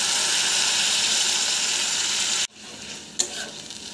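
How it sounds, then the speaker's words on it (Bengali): Spice paste for a Bengali small-shrimp gravy sizzles loudly and steadily in hot oil, then a splash of water cuts it off abruptly, leaving a quieter hiss and a single clink. "ভালো মতো মশলাটা কষিয়ে নিয়ে গ্রেভির জন্য সামান্য জল দিয়ে দিচ্ছি।"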